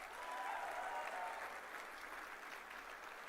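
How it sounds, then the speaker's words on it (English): Steady applause from a large audience, a continuous dense patter of clapping that holds throughout with a faint tonal hum in the background. "please give them a big round of applause"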